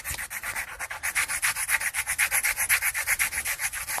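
Coloring in a turtle drawing makes quick, rhythmic scratchy strokes, close and steady, each back-and-forth rub repeating rapidly with no speech.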